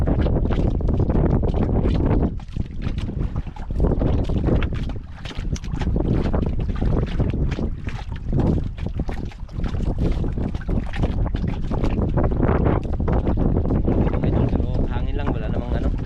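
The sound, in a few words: wind at sea heard from a boat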